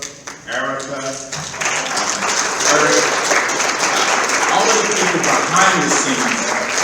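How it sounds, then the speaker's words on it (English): A conference audience breaks into applause after a short spoken phrase, the clapping swelling and then holding as a dense, lively wash that mixes with scattered voices and cheers. "I want to give a good shout out applause for Martina,"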